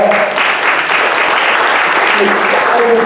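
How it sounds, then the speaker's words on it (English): Church congregation applauding at a Christmas service, steady loud clapping filling the room throughout, with a few voices calling out faintly underneath. "Can you guys applaud that?"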